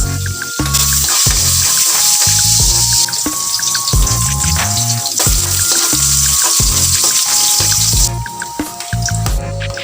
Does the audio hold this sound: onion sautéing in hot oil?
yes